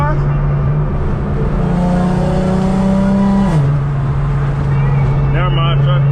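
A modified Infiniti G37 pulls hard from a 40 mph roll, its engine note climbing loud and continuous, with a shift break partway through before it climbs again.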